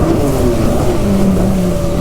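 A stand-up jet ski engine drones loud and close at steady throttle through a turn on the water, holding an even roar without a break.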